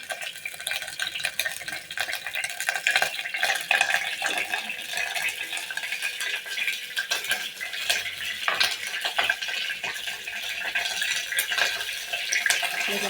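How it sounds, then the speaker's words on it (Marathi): Mustard seeds crackle in hot oil in a pot with cumin added, for a village-style bitter gourd dish, giving a dense, steady close-up sizzle and popping with scattered stirring and utensil clinks, no voices. "मोहरी तडतडली की जिरे टाकून"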